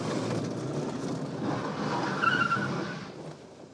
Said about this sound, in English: That's interesting, because we're not going fast, but the back end's kicking out, isn't it?